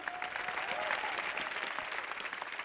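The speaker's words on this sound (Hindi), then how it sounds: "जोरदार तालियां हो जाओ" Studio audience applauding on an Indian television comedy game show as a film actor is welcomed: steady, dense clapping from a sizable crowd, moderately distant, with a faint voice threading through.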